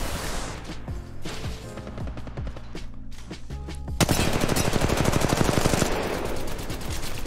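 Rapid automatic gunfire from Apex Legends Mobile rattles in a fast, steady stream of sharp shots, growing louder and denser partway through.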